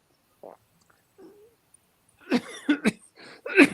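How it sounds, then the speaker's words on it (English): A short, muffled cough near the start, followed by quiet pauses and then a person talking. "Naturally, I cough when I'm about to speak."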